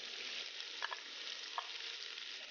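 Carrots, cabbage and shiitake mushrooms stir-fried in vegetable oil over high heat, a steady bright sizzle with a few soft scrapes of stirring, quiet and close.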